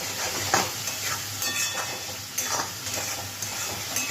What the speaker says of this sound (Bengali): আমি মশলাটাকে একটু ভালো করে কষিয়ে নিচ্ছি।